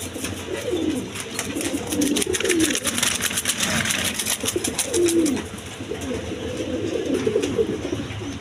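Large Mondain pigeons coo in soft, low repeated phrases at close range, with a steady mechanical hum in the background.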